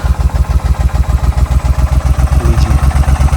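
A Royal Enfield-style SM 650 motorcycle engine runs loud and close with a steady, even thumping idle. Its rhythmic throb holds for the whole stretch with no voices.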